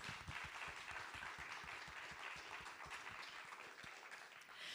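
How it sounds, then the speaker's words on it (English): Audience applause for the opening performers at an arts awards ceremony, a steady wash of many hands clapping that holds at an even level throughout, with no voices over it. "let's give a huge round of applause to all of our opening performers"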